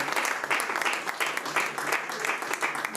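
A church congregation applauding, dense, steady clapping throughout with no break.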